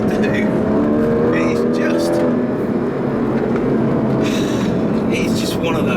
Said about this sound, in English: you get to hear what the Cayman's flat 6 sounds like much better when it's being ragged